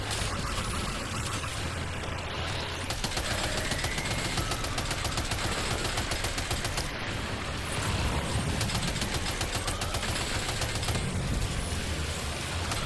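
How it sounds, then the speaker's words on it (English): Sustained machine gun fire rattles on in Death Stranding 2: On the Beach during an attack on the Magellan, rapid steady bursts over a dense bed of action noise. "Back to the machine gun."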